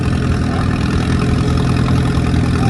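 An antique D12 tractor engine labors at a tractor pull, a steady, loud, dense rumble holding unbroken throughout with no talk.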